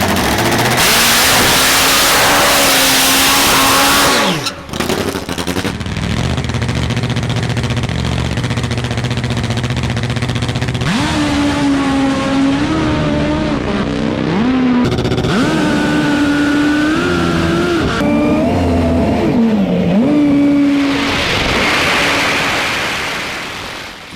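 A Top Bike nitro drag racing motorcycle run, loud and close, with a roaring, high-revving engine whose pitch rises and shifts through the run, then fades toward the end.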